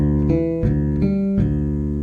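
Bass guitar plucking a fast, shredding bass line in choppy repeated notes with punchy attacks and short sustains, close and clear with no voices.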